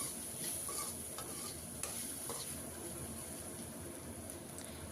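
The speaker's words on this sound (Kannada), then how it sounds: "ಈಗ ಇದನ್ನೆಲ್ಲ ಚೆನ್ನಾಗಿ ಫ್ರೈ ಮಾಡ್ಕೊಳ್ಳೋಣ." Vegetables with ginger garlic paste frying in a pan for egg fried rice, a steady close sizzle with scraping stir strokes throughout, no voices.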